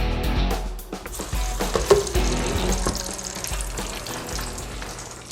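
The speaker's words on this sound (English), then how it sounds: "you just want to fry your egg rolls. Deep fat fire already plugged in." Egg rolls drop into a plugged-in deep fat fryer and bubble with a loud, continuous roar of frying oil, broken by a few sharp clunks and splashes.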